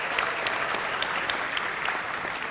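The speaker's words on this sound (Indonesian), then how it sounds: "kita akan sama-sama memberikan apresiasi tepuk tangan kepada seluruh calon presiden" Audience applause for presidential candidates at the first 2024 Indonesian presidential debate, a broad, continuous wash of clapping throughout with no speech over it.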